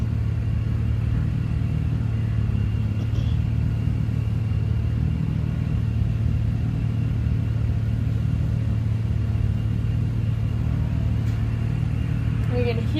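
An off-road race car engine drones loudly and steadily during qualifying at the Big Sky 200 in Broadview, Montana, a constant low roar with little change in pitch, heard up close throughout.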